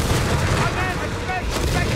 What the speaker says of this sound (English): Allies respond with a mortar fire and a machine gun.